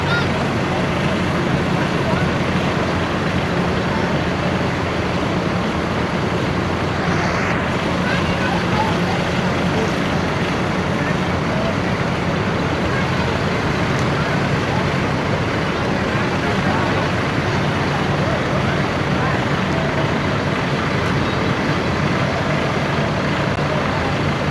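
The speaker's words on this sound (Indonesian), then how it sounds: "Biasa teman-teman kalau jam segini jam rame-ramenya bus pariwisata ngeres di rest area ini" Tour buses and other traffic idle and pass at the Kayu Manis 7 highway rest area, a steady loud broadband engine and road rumble filling the whole scene with no break.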